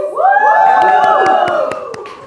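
A youth fellowship group at Oxford University cheers and shouts in unison, loud overlapping voices rising and falling together, punctuated by a few sharp claps.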